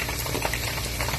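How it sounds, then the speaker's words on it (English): Pieces of beef fry in a pan, giving a steady, moderately loud sizzle and crackle with no talking. "I'm gonna finish frying up the beef"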